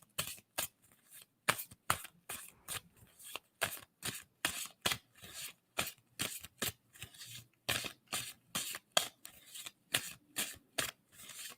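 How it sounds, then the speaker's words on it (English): Tarot cards shuffled by hand in quick repeated riffles, a sharp rhythmic run of crisp slaps and flutters close up, evenly paced with short gaps between bursts and no talk. "And I'm going to stop shuffling."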